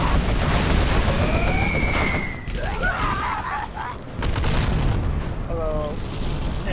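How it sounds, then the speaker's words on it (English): Carpet-bombing run in Command & Conquer Generals Zero Hour: a rapid series of loud, booming explosions rolls in and overlaps, followed by rumbling aftershocks, with game voices and effects around it. "I love the sound of carpet bombing in the morning."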